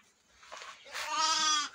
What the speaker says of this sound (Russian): Две ярочки и один баранчик.